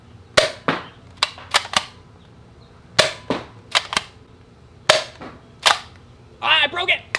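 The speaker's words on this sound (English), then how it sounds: "I'm gonna see how fast I can fire off 7 shots." Cheap Amazon paintball gun firing seven sharp pops in quick uneven succession, close and loud, with a brief voice at the end.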